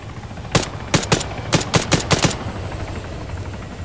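Heavy gunfire in the Arma 3 combat game: a loud burst of about nine sharp shots in quick irregular succession, then a quieter background hum, with no talking.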